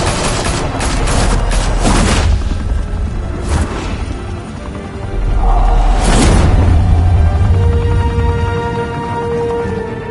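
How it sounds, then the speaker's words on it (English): Gunfire rattles through a scene in the Telltale Batman video game, with bursts of rapid shots, heavy booms and crashes, and a deep rumbling wash of sound that grows louder after the midpoint. "Open fire!"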